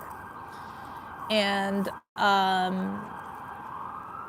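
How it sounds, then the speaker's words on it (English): An emergency vehicle siren wails outdoors as it passes, loud and close, rising in two strong bursts with a brief break, then fading into traffic noise; a voice says one word. "I'm gonna wait for the siren to pass by"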